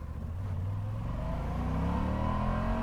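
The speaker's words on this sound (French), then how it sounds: "je laisse passer les voitures" Cars pass on a road, their engines rising in pitch and swelling steadily louder as they approach and accelerate, a continuous motor drone with no voices.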